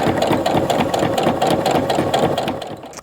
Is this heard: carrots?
no